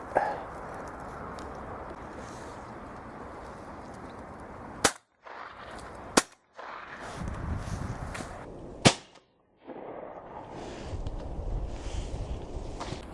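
Three sharp shotgun shots ring out at intervals while shooting pigeons over decoys above laid barley in June, each crack briefly cutting through a noisy outdoor background of wind and rustle.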